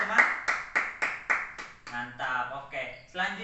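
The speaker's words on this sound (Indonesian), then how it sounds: "Tepuk tangan untuk Toga terlebih dahulu teman-teman" Classmates give a round of applause in a classroom, a series of evenly spaced claps that gives way to talking.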